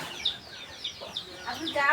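Chickens clucking close by in a village yard, a series of short, bright clucks and squawks repeating irregularly, with some faint background noise.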